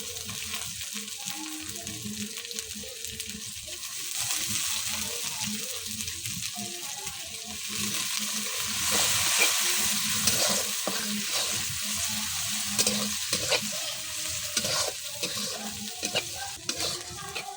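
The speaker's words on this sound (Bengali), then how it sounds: "পেঁয়াজটা আর শুটকিগুলা লাল করে ভাজে নিব।" Onions and dried fish fry in hot oil with a steady, close sizzle, broken by utensil scrapes and stirring, growing slightly louder midway with no talk.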